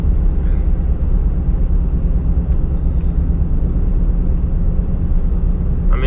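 A cammed Chevrolet Silverado truck running on stock torque converter during regular driving and shifting, with a steady, loud low engine rumble and road drone heard from inside the cab, no distinct gear changes standing out.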